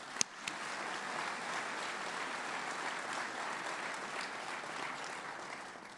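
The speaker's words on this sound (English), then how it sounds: "Your applause, please, for those sponsors." An audience at a 2013 mayor's State of the City address gives steady, even applause from a crowd, heard at a distance for several seconds.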